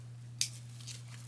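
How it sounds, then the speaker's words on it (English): Scissors snip off excess mesh material from a Valentine's wreath, two crisp close cuts about a second apart over a low steady hum. "cut the excess off"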